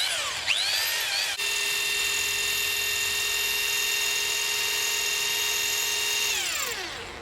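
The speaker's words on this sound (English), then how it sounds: "So first off, we'll start with the drill." A Dewalt SDS hammer drill bores into solid brick: a brief whirring start, then a loud, steady high-pitched motor whine held for several seconds before winding down, with no talk.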